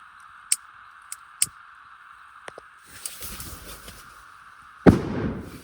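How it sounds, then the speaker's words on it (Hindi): Firecrackers pop outside a tent at night in a forest in Uttarakhand: several sharp distant cracks, a rumbling stretch, then one louder close burst near the end, heard over a steady insect-like drone. "यहीं से बम फोड़ रहे हैं"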